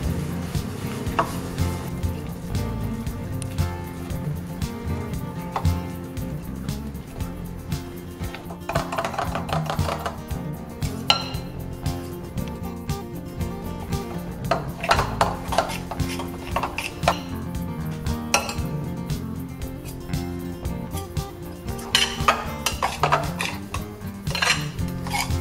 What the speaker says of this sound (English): So whisk it all together.